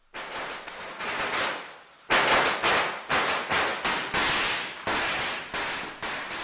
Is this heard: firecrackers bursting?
yes